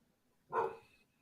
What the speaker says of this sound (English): I think it was one bark.